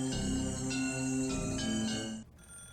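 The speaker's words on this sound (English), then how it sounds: "Suddenly, a phone rang." A telephone by the front door rings in the Higurashi visual novel game, a loud, steady electronic ring that continues alone for about two seconds and then cuts off abruptly.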